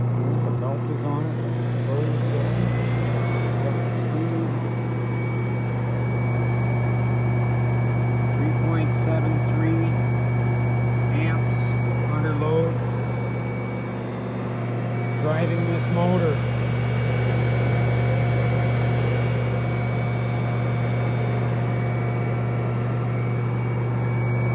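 An electric motor fitted with a Rotoverter modification runs continuously with a steady, loud hum and whine, and a person talks over it throughout.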